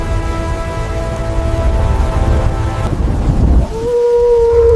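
A storm of freezing winds and relentless rain batters a rocky climb, a loud steady roar of wind and rain that keeps up throughout, with a deeper rumble rising near the end.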